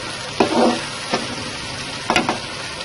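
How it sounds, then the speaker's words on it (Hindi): Potatoes fry in a pan at home, a soft steady sizzle with a few brief scraping stirs, close by and with no talking. "आलू को हम फ्राई कर लेंगे थोड़ा सा।"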